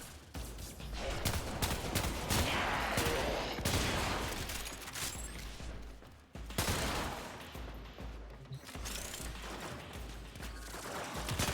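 Gunfire in the video game Warframe as a player shoots at a camera, with dense rapid bursts of loud shots that pause briefly around six seconds and then resume.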